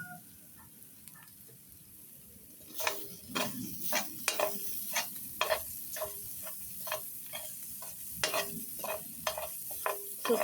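Spices sauté for a chickpea coconut curry: a soft sizzle runs under repeated sharp tapping and scraping of a utensil against the pan, fairly close and in an irregular rhythm.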